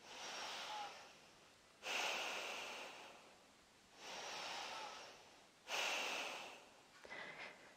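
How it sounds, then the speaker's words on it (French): Rhythmic yoga breathing, forceful nasal exhalations alternating with quieter inhalations, about four strong breath cycles, close and alone without speech. "vous pouvez augmenter légèrement le rythme des respirations"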